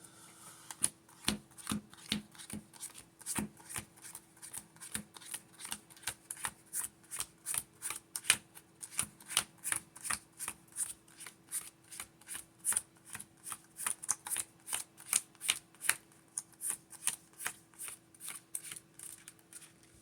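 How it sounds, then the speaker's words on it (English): Trading cards being pile shuffled, a long series of quick, crisp slaps and flicks in a steady rhythm, close and fairly quiet, with no talking. "Let's go ahead and get a pile shuffle going"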